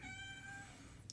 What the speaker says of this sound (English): if you're hearing a little crying kitten,